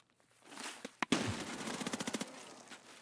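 Escape From Tarkov combat: a couple of sharp nearby shots, then a sharp blast, followed by a rapid evenly spaced automatic burst of about ten rounds, fairly close and clear with no talk over it.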